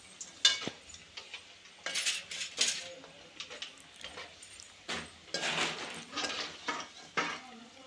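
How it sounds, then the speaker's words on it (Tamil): Mustard seeds splutter and pop while frying in hot oil in a pan, giving a faint, irregular run of sharp crackles and spits with brief pauses between clusters. "கடுகு நல்லா தெரிச்ச பிறகு"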